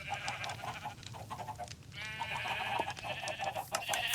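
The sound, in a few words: sheep bleating on a farm in Minecraft, a video game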